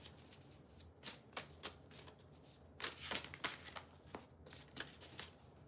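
Oracle cards are shuffled by hand close up in a quiet room, with a series of crisp riffling flicks and papery slaps, some isolated and some in dense bursts, at low level.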